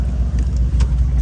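Mercedes C63S coupé engine with its turbos spooling, a steady loud low rumble from inside the car with a brief whooshing hiss partway through.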